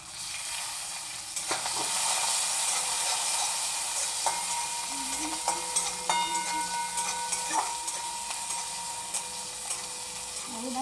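Tomatoes frying in a pan with curry leaves and a little coriander, a steady close sizzle with occasional stirring clatter throughout, no voices.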